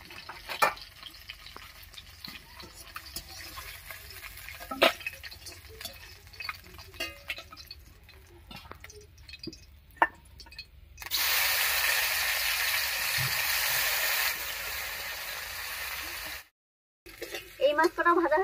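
River fish frying in oil, with scattered clicks and utensil clatter giving way to a loud, steady sizzle for several seconds before a brief cut and more kitchen noise.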